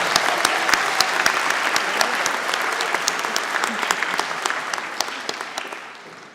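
A convocation crowd applauds a university big band after its performance, with loud, dense clapping and a few sharp nearby claps standing out. The applause stays steady, then tapers off at the very end.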